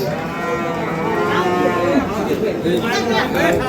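Several cattle and bulls moo loudly and repeatedly amid the murmur of a busy crowd at a livestock market in Dinajpur.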